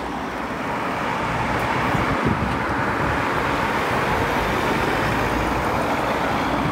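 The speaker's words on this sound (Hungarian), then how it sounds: "Arról jön a busz" A bus approaches through street traffic, a steady broadband road rumble with wind noise, no voices, holding level throughout.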